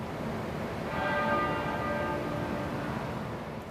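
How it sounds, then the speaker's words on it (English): A single church bell tolling at the Queen's state funeral, one sustained ringing stroke that swells and slowly fades, heard at a distance over steady outdoor crowd ambience, with no speech. "To the tolling of a single bell"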